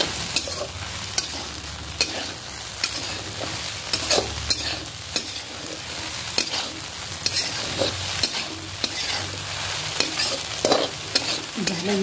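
Spicy Navratri sabudana khichdi with ground green chilies is stirred in a pan, giving a steady, continuous scrape and soft sizzle with repeated spoon strokes throughout, no voices.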